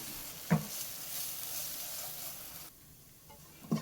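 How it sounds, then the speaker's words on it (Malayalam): Masala with chili powder, for a brown cowpea and fenugreek curry, sautés in a pan with a steady broadband sizzle, a sharp scrape or clatter near the start and another at the end, quieter after a pause. "ഇതൊരു 2-3 മിനിറ്റ് നല്ലതുപോലെ ഈ മസാലയൊക്കെ ഒന്ന് വഴറ്റിയെടുക്കാം"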